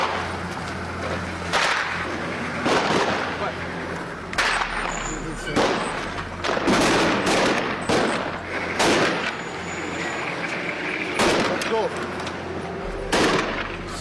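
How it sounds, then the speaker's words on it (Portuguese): Bursts of gunfire crack out in irregular volleys during a firefight in a Syrian village, sharp loud reports scattered across the clip with quieter gaps between them. "a tropa curda é recebida a tiros"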